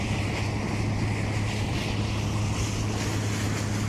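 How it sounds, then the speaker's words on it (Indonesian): Steady west wind and sea waves roar around a river taxi boat out on open water, a dense, unbroken rushing wash with a low engine hum beneath it, continuous and fairly loud, with no talking. "Sekarang angin baratnya sudah mulai bertiup."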